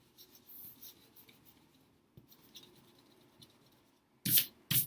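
An eraser rubbing out pencil lines on paper, soft intermittent scratchy strokes close by, followed by two sharp louder brushing bursts near the end, no talk.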